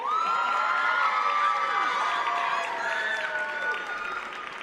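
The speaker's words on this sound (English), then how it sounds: "Let's give them all a round of applause." An auditorium audience at a university pageant claps and cheers, with whoops and shouts over dense applause that stays strong before easing slightly toward the end.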